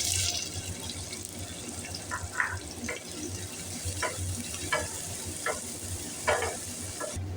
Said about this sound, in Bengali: তেল গরম হয়ে গেলে দিয়ে দিচ্ছি কুচি করে রাখা পেঁয়াজ